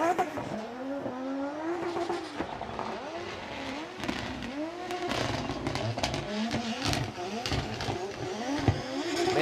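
A Formula Drift Japan car in wet conditions revs hard with bouncing engine pitch, sharp tire squeal and an extra purge burst, loud and close throughout, with crowd noise beneath.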